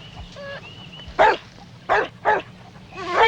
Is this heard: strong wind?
no